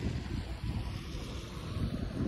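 A flooded river running fast and strong past a bridge, with damaged fields nearby, a continuous deep rushing roar mixed with wind buffeting against the microphone, steady and unbroken throughout.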